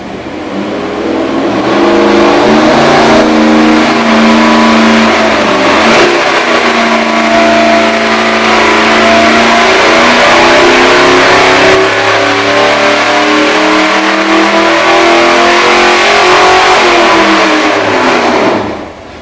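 A high-performance engine on a dyno holds a loud, steady roar at high revs for most of the run, pitch drifting slightly before dropping off at the end.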